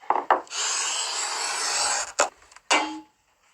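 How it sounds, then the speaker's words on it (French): A stained-glass artist scores a sheet of glass with a cutter, producing a sustained gritty, singing rasp lasting over a second, bracketed by short taps and a final snap, close and without speech. "Quand le verre est bien coupé, on entend un joli bruit."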